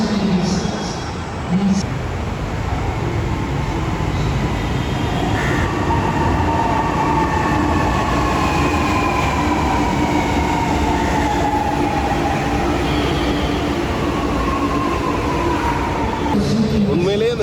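A metro train in Chennai runs steadily throughout, its loud continuous rumble and rising whine sustained for the whole stretch, with faint voices mixed underneath.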